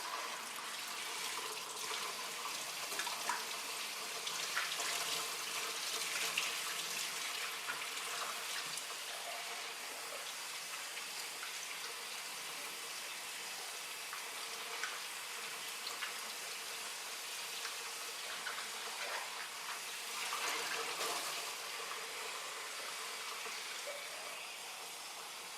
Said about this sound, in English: And we're going to wash the turkey first. Wash it out real good inside.